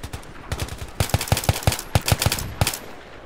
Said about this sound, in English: Switch over to single fire.